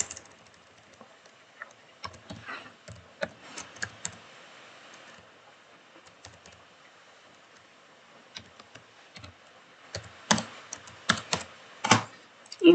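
A computer keyboard is typed on in short irregular bursts of clicky keystrokes, quiet and close, with pauses in between and a faster flurry near the end.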